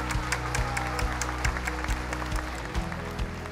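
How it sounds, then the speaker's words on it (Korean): An audience applauds at a song contest award ceremony, with continuous dense clapping over a steady rhythmic bass beat from background music, loud and close throughout. "큰 박수 부탁드립니다"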